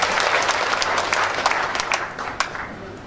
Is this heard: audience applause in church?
yes